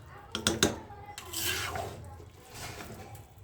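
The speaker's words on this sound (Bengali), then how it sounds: "এখন আমি ঢাকনাটা উঠিয়ে" A lid is lifted off a pot of beef biryani: a few sharp metallic clinks and scrapes, then a soft rubbing rustle, close and fairly quiet.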